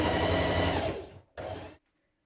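A sewing machine runs in a fast, steady burst stitching a blouse's underarm seam, pauses briefly, then runs again for a shorter burst before stopping, close and alone.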